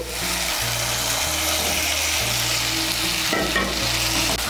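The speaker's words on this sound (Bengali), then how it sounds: "মিশিয়ে নিয়ে মশলার সঙ্গে আলুগুলোকে ভালো করে কষিয়ে নেব" Boiled potatoes frying and being stirred into a spice masala in a pan, with a loud, steady sizzle throughout, spoon scrapes over it and a low hum beneath, no talking.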